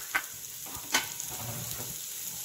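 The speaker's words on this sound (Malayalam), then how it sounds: "ഇനി ഇതിലേക്ക് ഒരു സവാള അരിഞ്ഞത് ചെറുതായി അരിഞ്ഞത് ചേർക്കാം" Finely chopped onion dropped into a hot frying pan, giving a soft steady sizzle with a couple of sharp clatters near the start and a low scraping stir later, with no voices.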